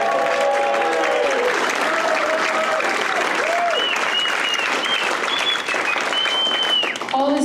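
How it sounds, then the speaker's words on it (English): Sustained audience applause fills a fellowship hall as a crowd claps steadily throughout, with a few voices calling out over the clapping. "can we have a round of applause, please, for the sound team?"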